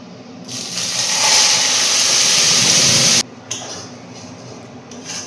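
Garlic fries in mustard oil in a pan with bottle gourd leaf paste, a loud, steady, close sizzling hiss that holds for about three seconds, then drops abruptly to a quieter, softer crackle.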